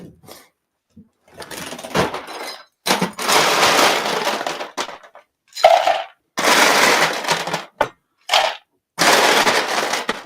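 Ice cubes clatter into a glass in several separate bursts of clinking and rattling, close and fairly loud, with short pauses between pours.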